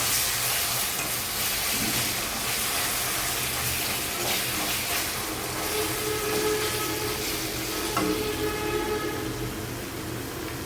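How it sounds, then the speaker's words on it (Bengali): Fried onions with ginger-garlic paste hiss in a pan, a dense and continuous close sizzle with faint clinks and scrapes near the end. No one speaks. "এইটা পেঁয়াজ ভাজা হয়ে গেছে এখন আমি এটার মধ্যে সামান্য আদা রসুন বাটা দিব"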